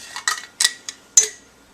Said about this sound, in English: Just mix it in with the fork.